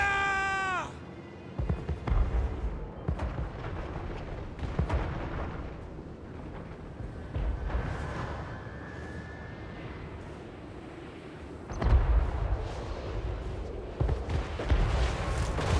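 Distant artillery bombardment on a fantasy battlefield in Total War Warhammer 3, with scattered muffled booms and cracks at irregular intervals over a steady battle din. A brief rising whine comes first, then heavier thuds near the end.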